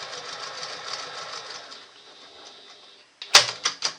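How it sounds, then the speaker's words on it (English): A sewing machine running a line of 1/8-inch top stitching across fabric for a tiny zipped case, a steady close whirring hum for about three seconds that fades out, followed by a few sharp clicks and knocks of handling. "I'm just going to sew 1/8 inch across, like I'm top stitching."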